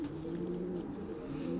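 Racing pigeons cooing inside a loft, a low, soft, continuous murmuring coo with several birds overlapping, faint and somewhat distant.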